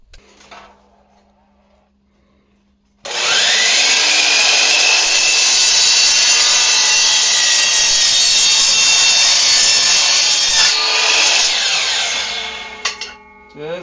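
A circular saw fitted with a wood blade cuts through a wooden rooftop-tent mounting board, a loud continuous buzzing rasp of about eight seconds that starts abruptly and winds down at the end, with quieter handling noise before and after.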